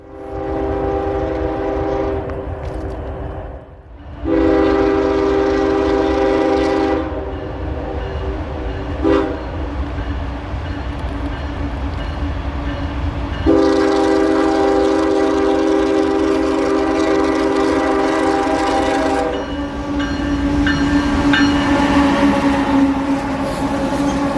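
A southbound freight train with a CSX lead locomotive and mixed-railroad engines rumbles past close by, its horn blaring in long sustained blasts over a continuous heavy roar of wheels and engines.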